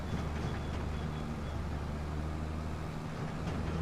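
A tractor engine labouring in the Farming Simulator 25 video game, a steady low droning rumble with a constant hum that carries on evenly throughout, fairly quiet and with no talking.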